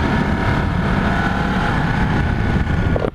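A Ducati 1199 Panigale S motorcycle ridden on the road, with a steady, loud engine drone mixed with rushing wind noise throughout, cutting off abruptly at the very end.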